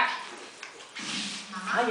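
A pug and a mixed-breed dog play-fight indoors, growling and whimpering with yips, partly overlapped by people talking nearby.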